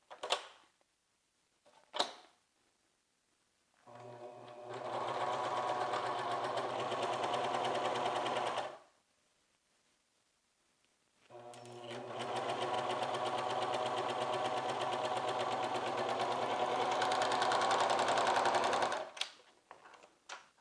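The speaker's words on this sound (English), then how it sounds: "we're going to go to the machine and we're going to sew that starting on one side of the" A sewing machine stitches a sleeve seam on a garment in two sustained runs of steady rapid whirring, each a few seconds long, separated by a pause, with short clicks at the start and end.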